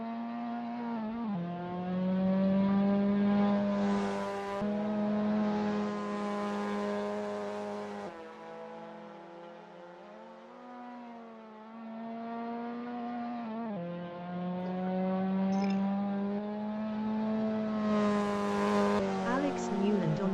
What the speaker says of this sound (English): although Jensen's put his foot down